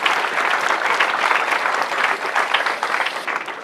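A large crowd at a high school Founder's Day service claps warmly for a pledged donor, dense and loud applause rolling steadily for a few seconds with slight swells.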